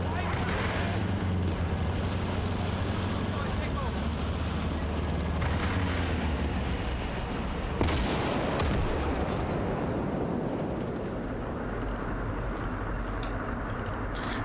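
Soviet artillery bombardment in the video game Gates of Hell: Ostfront, a continuous dense rumble of distant shelling and booms with occasional sharper impacts, steady and loud throughout with no pauses.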